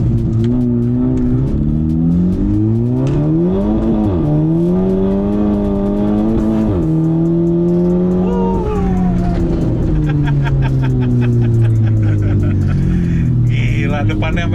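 A 400 HP car accelerating hard, its engine droning loud and close with rising and falling pitch through gear changes, continuous and dominant throughout, with people talking over it.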